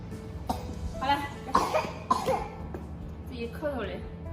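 A two-year-old child with a cold coughs in a rural home, several short, close coughs spread through the stretch, mixed with some voiced sounds.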